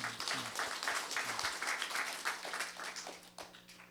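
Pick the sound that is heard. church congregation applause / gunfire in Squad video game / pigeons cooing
church congregation applause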